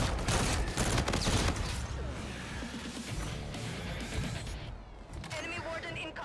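Dense, continuous gunfire in the shooter game Call of Duty: Infinite Warfare, with overlapping bursts and blasts filling the clip, loud and constant, with a voice talking over it.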